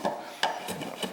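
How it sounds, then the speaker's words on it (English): A small hand plane is pushed around a curved edge, giving a few dry rasping, scraping strokes close up, each a short burst of friction with brief pauses between. "Planing around a curve."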